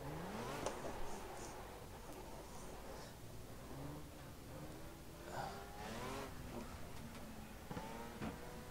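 A race car engine at Donington in Project Cars drones and revs steadily throughout, with gear shifts and rising pitch sweeps, fairly close and alone.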